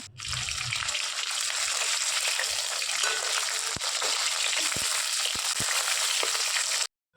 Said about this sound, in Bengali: আমি কিন্তু অন্য একটা কড়াইয়ে ইলিশ মাছের মাথাগুলো ভেজে তুলে রাখছি